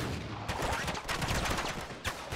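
Dense, continuous gunfire in the video game Uncharted 3: Drake's Deception, overlapping rapid shots and bursts forming a loud, unbroken barrage with no pause.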